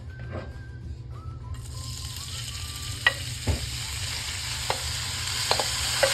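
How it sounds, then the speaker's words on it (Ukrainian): Sauerkraut sizzles steadily in oil in a frying pan while a utensil scrapes and stirs it, with occasional sharp clinks against the pan. "Помішуючи, просмажуємо біля 5 хвилин"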